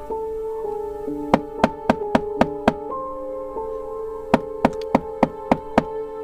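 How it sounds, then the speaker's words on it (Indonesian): Knocking on a house door, a run of about six firm raps followed after a pause by about five more, loud and close over a sustained musical drone. "Saya berusaha untuk mengetok lagi pintu itu"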